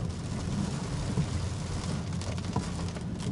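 Heavy rain drumming steadily on a car in São José, a dense continuous wash with low rumble and a few louder drops, no talk.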